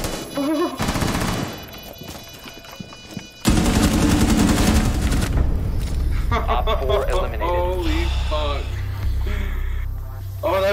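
Rapid gunfire in Rainbow Six Siege during a bomb-plant round, loud broadband bursts clustered over several seconds, then a dense stretch of continuous shooting, with players talking over the action.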